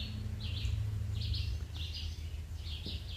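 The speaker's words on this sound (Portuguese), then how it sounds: "Aí você está ouvindo o canto dos pássaros." Birds sing in a forest around an abandoned house, repeated high chirping phrases at regular intervals, moderately distant, over a low steady background rumble.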